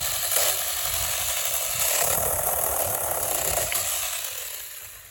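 Battery-powered mini chainsaw cutting through a one-inch branch: a steady, buzzing motor and chain rasp, close and loud for about four seconds, then winding down as the cut finishes.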